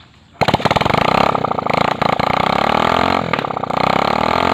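A motorcycle engine starts abruptly and runs loud and close, a rapid rhythmic putter that revs briefly, then settles into a steady idle.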